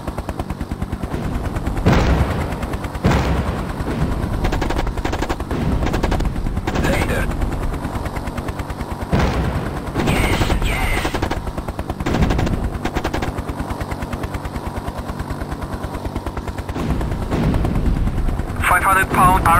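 Mi-24 Hind attack helicopter in a combat flight video game, its turret gun firing in rapid bursts over a steady rotor drone, with the gunfire loud and repeated throughout and a voice talking at times.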